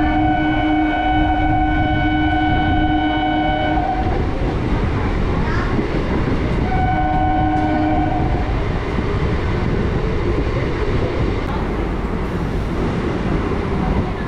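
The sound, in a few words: local train from Kolkata to Belur Math speeding up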